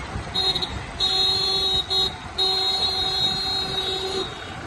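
A loud, nearby vehicle horn honks in sustained blasts, broken by a couple of short gaps, over street noise.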